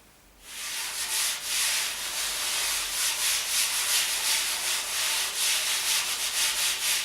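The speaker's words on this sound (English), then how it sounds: "toss some flour over, same flour as before, and really give it a good rub into the surface" Hands rub flour firmly into the surface of rolled fresh pasta dough, producing a steady, close, dry rasping sound of palms sweeping back and forth over the floury sheet, with no talking.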